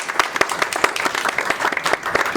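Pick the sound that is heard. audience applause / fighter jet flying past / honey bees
audience applause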